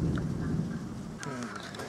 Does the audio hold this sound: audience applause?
no